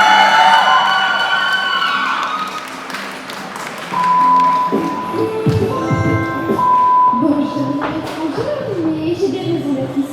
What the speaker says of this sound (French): je compte particulièrement sur vous pour faire tous vos meilleurs applaudissements à Polly de Brawl Stars, interprétée par Adi